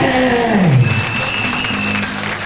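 Church congregation applauding in praise of Jesus, a dense sustained clapping with some crowd noise and a brief low voiced tone near the start, fairly loud and close throughout.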